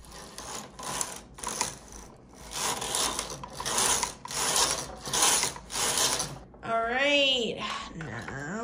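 A knitting machine carriage slides across a row in several rattling, whirring mechanical passes with short pauses between them, followed by a brief squeaky sliding sound.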